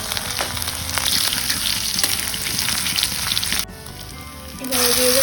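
Chopped ginger and asafoetida hit hot oil with black cumin, a loud continuous sizzle and crackle of frying that briefly drops and then surges again as more is stirred in.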